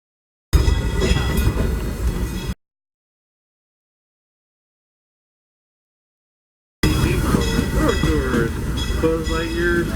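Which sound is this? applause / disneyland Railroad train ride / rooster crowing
disneyland Railroad train ride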